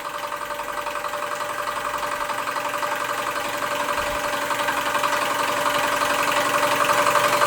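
A Stirlingkit Retrol SE-02 model steam engine runs steadily and close up, a smooth, even mechanical chugging with a faint rhythmic whir that builds slightly in loudness, with no talking.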